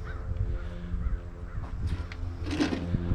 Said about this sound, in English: We have these birds circling over.